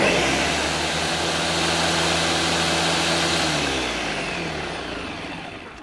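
A blender whirs steadily at high speed while blending a tomato juice drink, a loud, continuous motor roar that slowly winds down near the end, with no talking.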